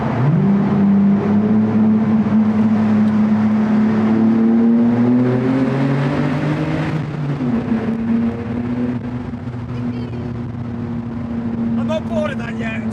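Car engine revving hard inside the Hindhead Tunnel, a loud booming roar whose pitch climbs and falls across several gear changes, echoing off the walls before easing to a steady drone, with voices talking over it.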